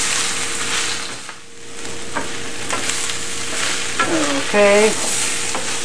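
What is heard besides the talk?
vegetables and baby corn being stir-fried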